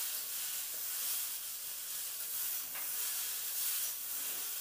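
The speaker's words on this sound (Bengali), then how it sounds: "দেখুন ভাজা ভাজা করে বেশ কষিয়ে নিয়েছি" Potato, drumstick pieces and poppy seeds fry in a pan, a continuous soft sizzling hiss at moderate level, with no voices.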